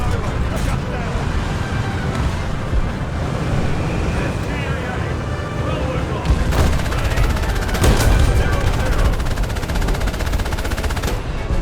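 Gunfire in a video game: continuous dense bursts of rapid shots and explosions over a loud, busy game soundscape, with a player talking over the action.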